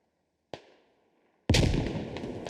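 Two grenade explosions in the video game Squad. A sharp blast decays into a ringing tail, then a second, much louder boom rolls on with a sustained rumble and crackle to the end.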